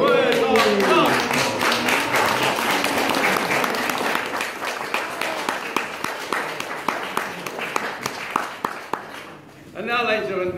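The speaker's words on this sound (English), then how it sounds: "Give a nice round of applause, ladies and gentlemen." Wedding guests applauding in a hall, loud dense clapping that thins into scattered, individual claps and fades out, with talk over the start and a voice returning at the end.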